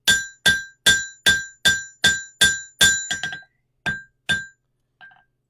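A small metal piece is hammered flat for making tiny hooks: nine quick, evenly spaced, ringing metallic blows, then a few slower strikes ending in a faint tap, close and loud.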